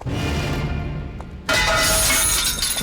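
Glass suddenly shatters midway, a loud bright crash of breaking pieces following a quieter lead-in, with no talking.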